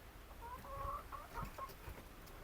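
Chickens in a backyard coop cluck in short, soft bursts, faint and somewhat distant against a quiet background hiss.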